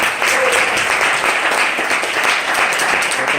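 Steady, loud applause from a church congregation praising the Lord during a sermon, dense clapping filling the whole stretch without a break.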